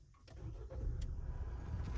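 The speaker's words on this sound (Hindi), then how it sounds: "मैं भाई अपनी स्टार्ट कर लेता हूँ ZL" Mahindra Scorpio N Z8L SUV starting by push button, a steady low engine rumble rising into a settled idle, heard close up from inside the car with a few faint clicks.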